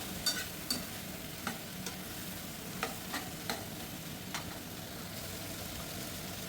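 Prawns frying for a gongura prawn curry, a soft, fairly distant sizzle with a series of light, evenly spaced scraping clicks from stirring in the pan.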